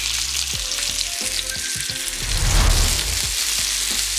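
Beef pieces browning in a frying pan for a Guinness beef stew, a steady close sizzle that swells louder midway, with occasional soft stirring clinks over the frying hiss.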